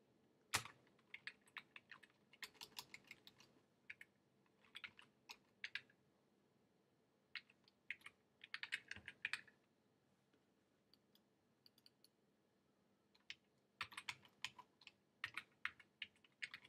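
CSS code is typed on a computer keyboard in quick, soft bursts of clicking keys separated by short pauses, quiet and close with no talking.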